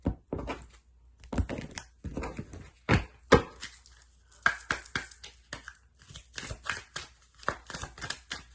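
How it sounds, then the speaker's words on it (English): Tarot cards being cut by hand on a table indoors, giving a series of soft, dry thunks and taps in irregular bursts, close and fairly quiet with brief pauses between. "They're saying cut it, so I'm going to cut."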